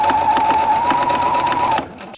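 Sewing machine stitching the second pass of a French seam where a skirt attaches to a dress bodice: a loud, steady motor whine with rapid rhythmic needle chatter, stopping abruptly near the end.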